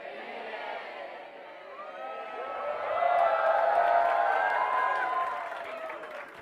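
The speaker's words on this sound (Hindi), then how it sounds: "जबरदस्ती तालियां बजा रहे हो यार" A class of students in a CA Inter law lecture claps and cheers together, a steady wash of crowd noise that swells louder midway and then eases off slightly.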